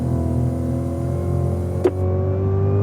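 A 2016 Cadillac CTS-V accelerating on the Circuit of the Americas track, its engine droning steadily with a rising tone after a brief sharp blip near the end, heard from inside the car with no talk.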